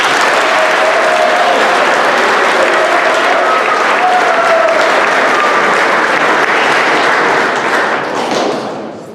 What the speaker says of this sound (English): Round of applause for our 11th grade.